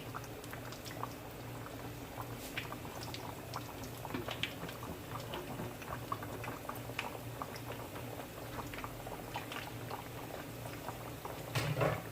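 Plantain frying in 2 cups of hot vegetable oil: a steady, dense sizzle with scattered pops and crackles, close and continuous throughout.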